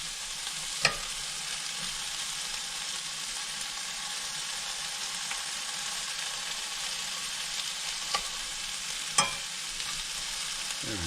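Food sautés in a skillet at a campground, giving a steady close sizzle that runs throughout, with a few sharp clinks and scrapes of a utensil against the pan.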